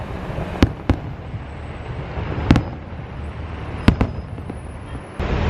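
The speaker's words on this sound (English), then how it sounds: "Look at these fireworks." Fireworks bursting at Disney's Contemporary Hotel area, several sharp distant bangs spaced irregularly over a steady outdoor background rumble.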